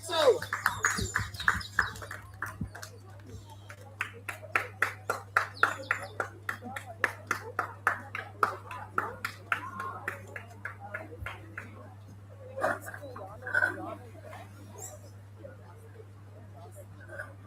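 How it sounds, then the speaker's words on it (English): An audience at a primary school literacy week performance claps for a class in a sparse, evenly spaced rhythm of distinct claps that continues steadily, with a low hum underneath. "Let's give them a round of applause."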